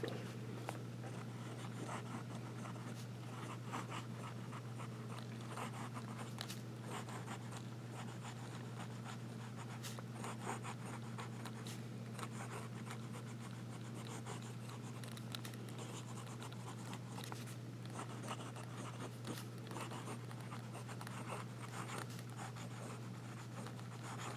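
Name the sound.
Jinhao Dragon King fountain pen writing on paper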